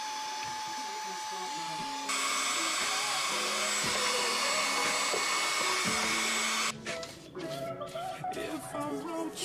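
A vacuum cleaner drones steadily while cleaning a car's air vents, with a loud whining motor that shifts pitch partway through, then gives way to music near the end.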